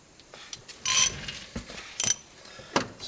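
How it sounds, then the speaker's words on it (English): Ratchet turning a bolt on the rear upper control arm of a 2002 Honda Civic's suspension, close, intermittent bursts of clicking with short gaps and light clunks, quiet, no voices. "So now we just continue this process with a ratchet."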